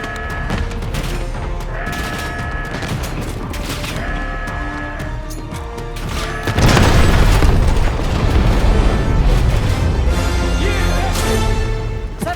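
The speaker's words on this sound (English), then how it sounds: "Level it with a mortar strike." Mortar strike explosions in Call of Duty: Black Ops 6, heavy booming blasts that swell into a dense, continuous rumble of impacts in the second half, loud and close over a tonal game score.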